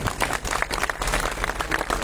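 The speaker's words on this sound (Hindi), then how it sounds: "एक बार जोरदार ताली" Audience applause at a political gathering on a farmhouse in Faridabad, a dense, steady wash of clapping from a crowd that carries on for about two seconds without a break.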